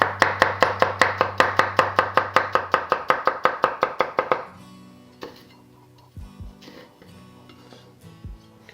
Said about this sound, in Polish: Cebulkę kroimy w piórka.